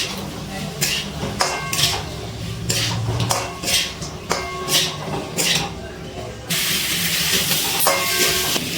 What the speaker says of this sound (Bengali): ভেজে রাখা আলুগুলো দিয়ে আবারও একটুখানি নাড়াচাড়া করে মিশিয়ে নিচ্ছি সব কিছু।